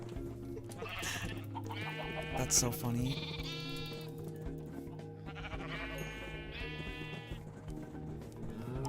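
Sheep bleat in a game, several wavering cries following one another, with a person talking and laughing over them.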